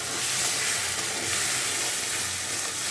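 Spices fry in a pan for a chana curry, giving off a loud, continuous sizzle and crackle that stays close and even throughout, with no voices.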